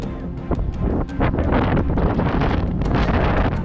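Strong wind on the hilltop at Don Hill Station, Dang, Gujarat, buffets the microphone in loud, continuous gusts, roaring and rumbling without pause.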